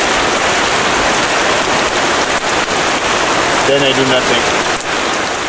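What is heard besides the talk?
rain falling on an island shelter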